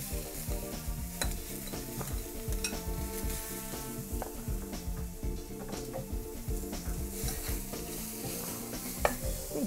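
About a pound of ground pork with onions sizzles in a pan on an induction cooktop, with a steady crackle and frequent scraping, clinking stir strokes throughout. No one speaks.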